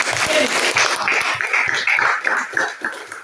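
Students clapping in a high school classroom, a short burst of close, fairly loud applause that tapers off toward the end.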